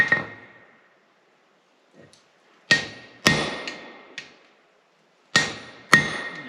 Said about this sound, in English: Put that right to the edge of my anvil. Come up here and half on, and drive that down.